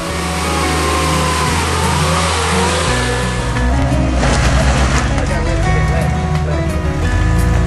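A Nissan Patrol 4WD engine works hard off-road, revving loud and close with rising and falling throttle over rough ground, while someone talks excitedly over the engine noise.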